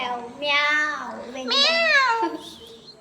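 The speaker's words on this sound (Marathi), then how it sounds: "Persian cat." A Persian cat gives two long, drawn-out meows close by, followed by a softer, higher squeak.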